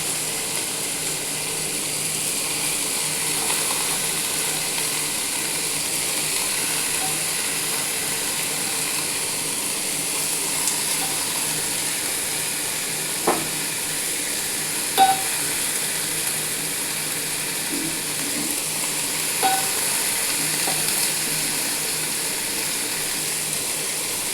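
Pumpkin pieces and chickpeas fry in a pan for a vegetarian dish, making a steady, even sizzle for the whole stretch, broken by a few sharp clicks from stirring, with no voices.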